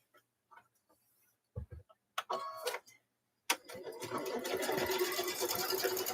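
A sewing machine quilting through fabric and batting starts up after a few soft clicks and brief talk, then runs in a fast, steady needle chatter that grows louder and continues to the end.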